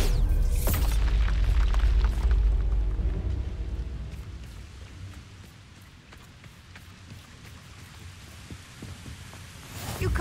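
A Bombarda explosive spell goes off in Hogwarts Legacy, a loud low boom at the start that rolls into a long rumbling decay, with faint crackling debris and a fresh burst at the end.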